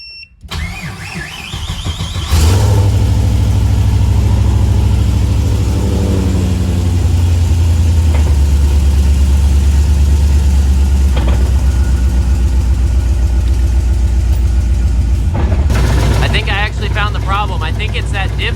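A car engine cranks and catches, then settles into a steady, loud idle with a low rumble, heard up close during a differential bushing repair; a brief rev and a shift in tone come near the end.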